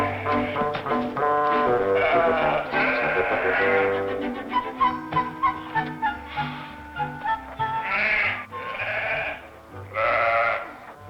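Sheep on a farm bleating repeatedly, several overlapping calls at first, then separate loud bleats, close and clear with no talking.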